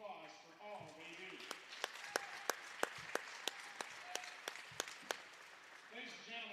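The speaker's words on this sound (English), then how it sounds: "Please join us in giving these officials a round of applause for all they do." Basketball crowd at an Iowa high school gym applauding the game officials, with steady clapping throughout and louder sharp claps standing out, mixed with a murmuring crowd and voices at the start and end.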